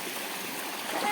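Shallow stream water rushing and splashing close by, with someone wading half-submerged, a steady broadband wash that swells slightly toward the end.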